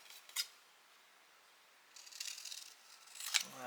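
Scissors snip paper for a seed packet craft: a short snip, a pause, then a longer run of cutting sounds that ends in a sharp closing snip, close and quiet.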